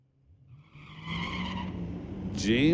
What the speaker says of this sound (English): James McNeil with a bunch of wheel spin on the starting line